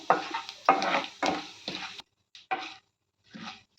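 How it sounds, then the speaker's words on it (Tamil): Chana dal, mustard seeds and cumin frying in hot oil in a pan, heard as close scraping stirs and sizzling bursts in short irregular strokes separated by brief silences, without talk. "கடலைப்பருப்பு போட்டு கொஞ்சம் இதாகணும், செவந்து வரட்டும்"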